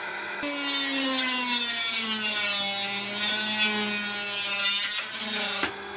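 Loud, sustained whine of a large electric drill widening holes in wood, its pitch slowly shifting, running continuously for several seconds before cutting off.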